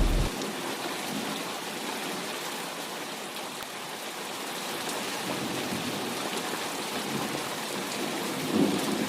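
Steady, heavy rain pours down with a low, rolling thunder rumble underneath, continuous throughout.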